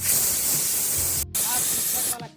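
Pressure cooker whistle releasing steam while cooking, a loud continuous close hiss that breaks off for an instant and resumes before cutting out near the end.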